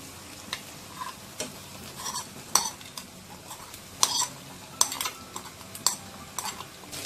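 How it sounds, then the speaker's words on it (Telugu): Raw prawns frying in a pan with garlic paste and turmeric, stirred with a utensil: irregular scraping and clinking strikes over a low continuous sizzle, close and fairly loud, no talk. "పచ్చి రొయ్యలను వేసుకుందాం"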